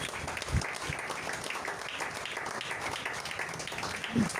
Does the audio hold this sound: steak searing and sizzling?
no